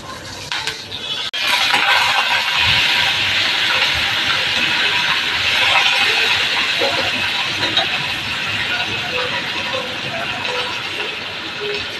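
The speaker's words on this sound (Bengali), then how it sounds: "ওখানে যে তেলটা আছে ওই তেলটাতে আমি শুকনো লঙ্কা আর সর্ষে ফোড়ন দিই।" Dry red chillies and mustard seeds tempering in hot oil produce a loud, continuous hiss that surges after a second and holds steady, with faint crackles and some background noise.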